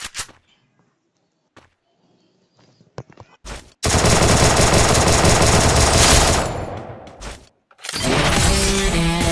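Video game gunfire: a few sparse clicks and taps, then a long, loud burst of rapid automatic fire, a brief pause, and another sustained volley with ringing, glassy tails.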